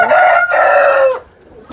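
A Denizli rooster crows loudly and close by, one long drawn-out call that breaks partway and then fades into quiet.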